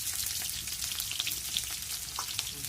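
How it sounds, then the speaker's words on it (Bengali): Onion frying in a pan in a village kitchen, a bright, dense sizzle that crackles continuously up close, with a few faint scrapes. "এখন আমরা পেঁয়াজটা দিচ্ছি।"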